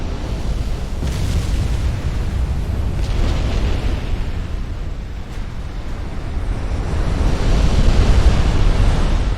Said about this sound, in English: This one is exploding.